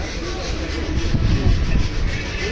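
A train rumbles past close by with a loud, steady low roar that swells midway, a voice faintly audible beneath it.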